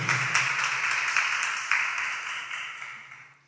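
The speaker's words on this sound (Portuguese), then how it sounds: "Você pode aplaudir esse Deus maravilhoso?" Church congregation applauding, a sustained wash of many hands clapping at moderate distance, swelling briefly and then fading out toward the end.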